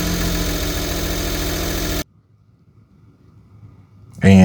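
A 1995 Suzuki Carry engine runs with a loud, steady idle for about two seconds, then cuts off abruptly into near silence before a brief burst of sound at the end.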